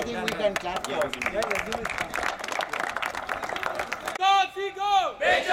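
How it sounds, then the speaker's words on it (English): Audience clapping at a program inauguration, a brisk, uneven patter of hands from a gathered crowd for about four seconds before a voice takes over. "I think we can clap for it."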